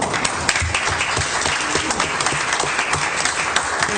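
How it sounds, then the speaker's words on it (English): Applause fills a city council meeting room, a steady, dense patter of many hands clapping, close and fairly loud, with individual sharp claps popping out of the continuous wash. "I'd like to take a point of personal privilege and again thank and applaud the work of Councilmember Kinzer"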